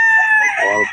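A stag rooster crows once, loud and close, in a short harmonic call at the Bocaue market.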